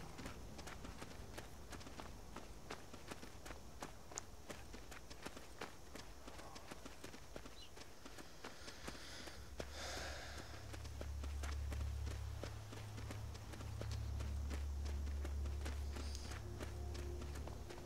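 Rapid running footsteps of a player character in the Skyrim video game, a steady patter of quiet steps throughout with a low rumbling game background swelling in the second half.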